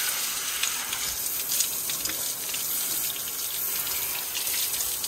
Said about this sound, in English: Cold shower.